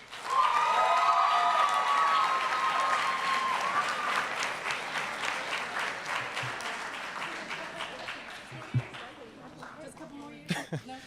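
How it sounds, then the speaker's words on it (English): A graduation ceremony crowd applauds its graduates at a Kente stole event, loud sustained clapping with some cheering that gradually thins and fades, with scattered voices and a few louder claps near the end. "Please give a round of applause to our graduates."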